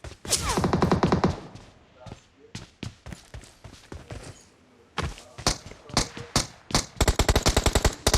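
Gunfire in PUBG Mobile, an enemy shooting from behind: rapid automatic bursts and scattered single shots, loud and close, with quieter gaps between volleys.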